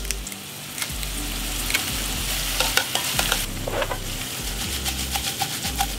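Onions sauteing in a pan with pressed garlic, a soft steady sizzle broken by several sharp scrapes and stirs of a utensil against the pan, close and alone without any voices.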